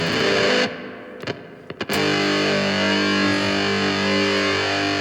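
A heavily distorted guitar wall of sound drones with a wavering, detuned shimmer, cutting out briefly before swelling back loud and sustained.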